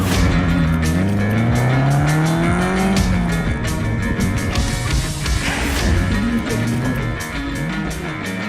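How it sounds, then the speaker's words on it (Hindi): A race car lapping the Buddh International Circuit at a motorsport event, the engine roaring loudly and steadily with rising and falling revs as it shifts gears, tires squealing through corners, with no talking. "ये शिविक का तीसरा लैप था, काफी सही करा है उसने"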